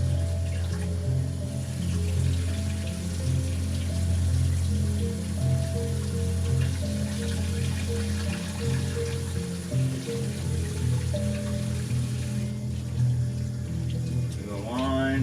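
Room-temperature water pours steadily into a cup of Maruchan Instant Lunch Hot & Spicy Chicken noodles, a continuous trickling stream lasting several seconds before it stops near the end.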